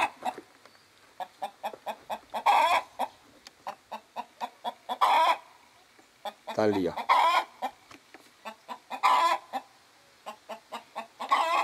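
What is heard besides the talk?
hen cackling after laying an egg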